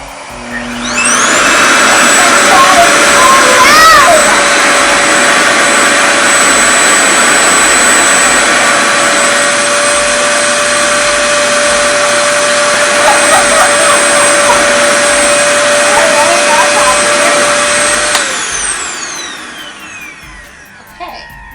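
A RevAir reverse hair dryer set on low heat runs with a loud, steady suction roar and high whine close by, starting up, holding for about seventeen seconds, then winding down.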